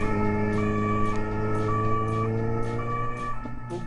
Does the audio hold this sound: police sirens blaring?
yes